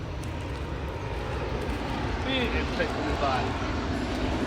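Low-flying airplanes passing overhead near a Hilo park in Hawaii, a broad steady engine rumble and roar filling the background while people talk.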